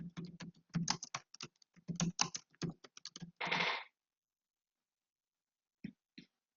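Keystrokes clatter on a computer keyboard while a title field reading credit card number is filled in, in quick irregular bursts for about four seconds, then silence broken by two last isolated taps.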